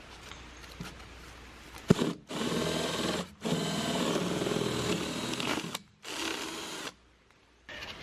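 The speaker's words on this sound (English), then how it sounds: "I need to cut a hole into the side of my box to get that wire through. So I've got a Forstner bit here." A Forstner bit drills a hole through the side of a junction box for a micro hydro turbine wire, heard as loud sustained whirring bursts with brief pauses between them and a sharp click near the start.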